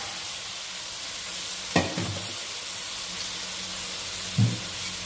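Meat stir-frying in glossy oil with white sugar, a steady close sizzle and hiss from the pan, punctuated by a few sharp scrapes and clatters of a spatula; no talking.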